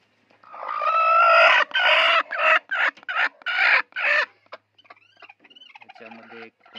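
Country hens in a coop give loud, close, rapid clucks and a drawn-out crowing call for about four seconds, then softer scattered clucks trail off.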